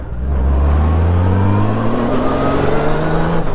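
A large Honda Goldwing trike engine revs and accelerates smoothly, its deep hum rising steadily in pitch, loud and close with a whooshing rush over it.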